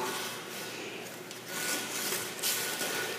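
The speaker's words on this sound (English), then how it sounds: "on the other nipple where it goes in, I'm just going to go ahead and sand that up a little bit, just to get any debris that's on and off" Sandpaper rubbing on the nipple of a cast iron hot water radiator, a steady close scratchy rasp with slight swells, no voices.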